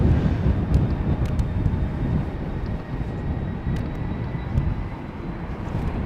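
Strong wind buffets the microphone at Schiphol Airport, a constant rough low roar with a faint steady aircraft hum beneath and a few light clicks, no speech.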